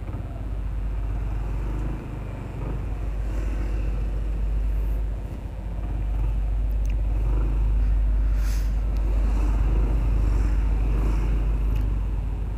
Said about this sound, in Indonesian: Oke, sekarang saya akan test ride di jalan perkotaan ya.